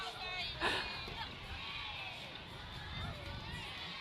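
Wildcat cheerleaders from Clinton Primary cheer and shout during an outdoor district fair parade, a steady crowd roar with one louder burst of yelling near the start, over the general hubbub of spectators.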